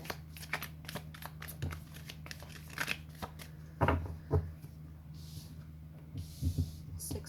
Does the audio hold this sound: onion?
no